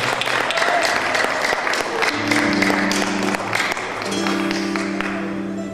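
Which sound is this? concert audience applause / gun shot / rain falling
concert audience applause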